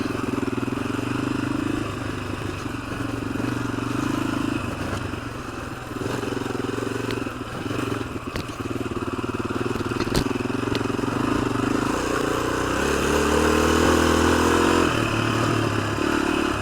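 A 1986 Honda XL250R dirt bike ridden around a yard, its single-cylinder engine chugging loudly up close, with gear changes and a rev rise toward the end, plus some rattling.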